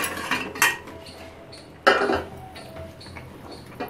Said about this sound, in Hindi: तो अब इसमें हम पकौड़े ऐड कर देंगे, और पकौड़े डालने के बाद बहुत ज़्यादा देर तक इसे हमें पकाना नहीं है, इसे डाल देते हैं।